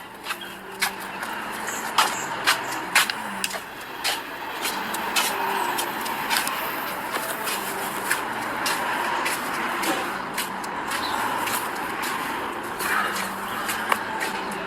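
Street traffic with cars and heavier vehicles passing, a continuous road rumble broken by sharp clicks and knocks, heard at moderate loudness from nearby.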